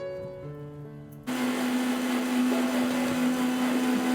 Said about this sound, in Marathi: हे टोमॅटो पण आपण मिक्सरमध्ये बारीक करून घ्यायचे